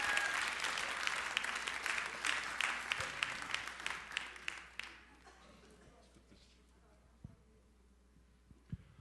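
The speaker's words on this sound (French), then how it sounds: "Je veux qu'on applaudisse mes deux acteurs ici." Audience applauding two actors at a church gathering, a dense burst of clapping for about five seconds that tapers off into a quieter room with a few stray knocks.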